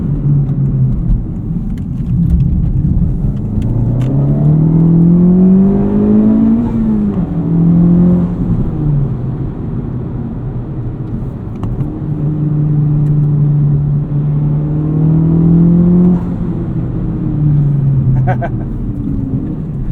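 A Honda Civic Type R revs hard through short gears from the cabin, its engine note climbing and dropping with repeated shifts, loud and continuous with a driver talking over it.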